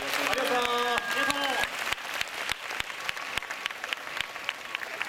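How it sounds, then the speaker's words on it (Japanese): Applause at a stage event for the department heads who drew pictures in an on-stage drawing-song contest, with sustained clapping from a crowd, starting under a voice and a brief musical jingle. "もう一度書いていただいた部長の方々に大きな拍手をお願いいたします"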